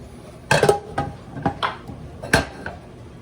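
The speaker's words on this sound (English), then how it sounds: "Mix all that up." A spoon clanks and scrapes in a pot while mixing vegan taco filling, five or six distinct metallic knocks spaced irregularly, close and fairly loud, with no talk.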